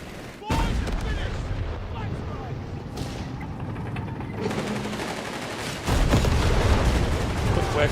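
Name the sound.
machine gun fire in video game Company of Heroes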